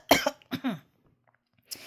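Someone coughs close by in two quick harsh bursts, then a throatier follow-up, with a faint start of another sound at the end.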